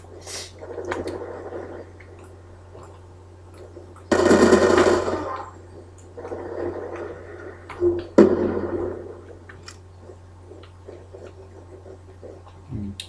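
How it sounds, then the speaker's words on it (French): Bursts of PDW submachine gun fire in Black Ops 2, with a loud sustained volley and several shorter rattling strings, plus a few sharp clicks against a steady low hum. "Ah non, la mitraillette avec PDW."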